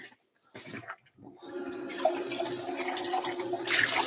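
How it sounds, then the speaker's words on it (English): Coffee-making equipment being rinsed under running water: a few brief splashes and clatters, then a steady rushing flow of water that grows louder near the end. Close by, with no talking. "Let's do a quick rinse of all of our materials."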